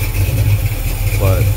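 A Chevy 350 V8 runs on an engine stand, a steady close idle rumble lasting just over a second with a brief higher whine near the end.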